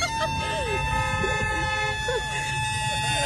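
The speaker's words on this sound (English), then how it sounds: "So that's what the train horn sounds like." A loud Hornblaster 224 Nightmare electric train horn blasts close by, its sustained tones mixed with sweeping, wavering pitches throughout the short burst.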